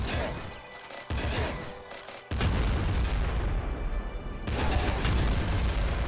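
Auto shotgun blasting in the roguelike Nuclear Throne: heavy booming shots that start abruptly and merge into a loud, dense barrage with sharp bursts, under game music and effects.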